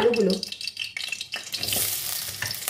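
Potatoes dropped into hot mustard oil in a kadai, a burst of clatter and stirring giving way to a rising, steady sizzle close by, with no talk.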